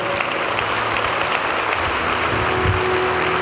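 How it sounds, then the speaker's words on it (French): A church congregation applauds in honor of the King during a worship service, a steady broadband wash of clapping that fills the room. "Denle un aplauso al Rey."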